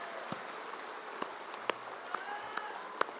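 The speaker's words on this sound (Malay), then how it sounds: "Tepukan mungkin belum cukup kuat sebagai penghargaan pada mereka." An audience at an UMNO party assembly gives sparse, scattered applause, a handful of separate handclaps sounding faintly and unevenly across a hall.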